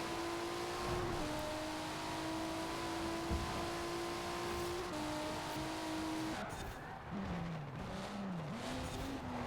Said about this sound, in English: this is the Radical RXC Turbo with the LMP1 tune by Nalak28. They are driving.